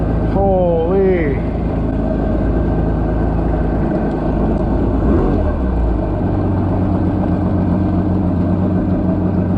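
A Yamaha WaveRunner 500cc jet ski engine idles a little high on the water with a steady, close, continuous drone throughout. A brief whistling sweep sounds near the start.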